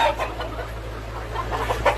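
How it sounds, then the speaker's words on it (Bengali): Local-breed roosters and hens at a poultry farm cluck and squawk close by in short bursts, over a steady low hum, with a sharper call near the end. "এই হচ্ছে দেশি মোরগ বিক্রয়ের জন্য রেডি আছে"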